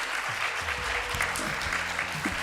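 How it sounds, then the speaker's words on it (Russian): An audience at a company's annual year-end meeting applauds during an award announcement, a continuous, even wash of clapping with a few voices murmuring underneath. "Бурные аплодисменты, пока выходят специалисты."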